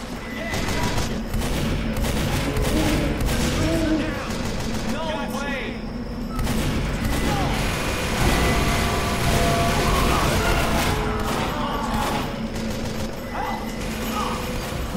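Team Fortress 2 shotgun blasts ring out amid a dense, chaotic firefight, with repeated loud shots and crashes layered over continuous game noise while players talk throughout.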